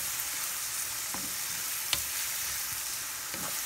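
Onions frying until golden in a clay pot for a traditional fish curry, giving a steady close sizzle with a few soft stirring scrapes and no talk.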